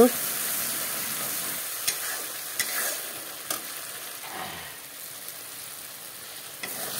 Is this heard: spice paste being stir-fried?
yes